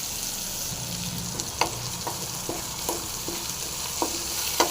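Thoothuvalai berries frying in a pan for a pickle, a steady low sizzle under light, irregular clicks and taps of a spoon stirring close by.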